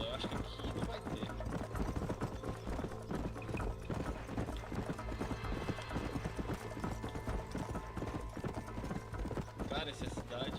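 A horse gallops in Red Dead Redemption, its hooves pounding in a fast, steady rhythm close and loud, with a brief whinny and game ambience under a voice.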